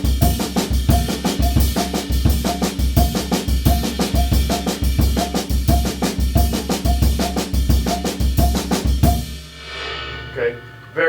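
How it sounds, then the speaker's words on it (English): Drum kit groove playing a clave pattern between the ride cymbal and bass drum, steady repeating cymbal strikes over thudding kicks for about nine seconds, loud and close, then stopping into near silence. "do with the ride cymbal and the bass drum."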